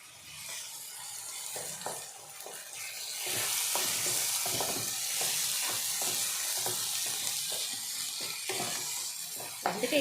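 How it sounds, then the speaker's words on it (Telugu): Tomatoes cook in a pan for mutton kurma, a steady sizzle and fry with repeated stirring scrapes and taps throughout, fairly close and with no one talking. "టమాటాలు బాగా మగ్గనిద్దాం. ఓకే, టమాటాలు స్మాష్ అవుతున్నాయి."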